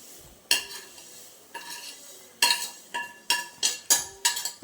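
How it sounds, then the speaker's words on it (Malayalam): Roasted vermicelli goes into a pan of carrot and onion with ghee and is stirred; a spoon knocks and scrapes against the pan in a string of sharp, close clinks, coming faster toward the end over a faint sizzle. "ഗൈസ് നമുക്കിനി വറുത്ത് വെച്ചിരിക്കുന്ന സേമിയ ഇടാം."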